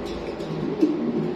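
Pigeons of fancy breeds coo softly at close range, a brief low burbling murmur over faint background noise, with no one speaking.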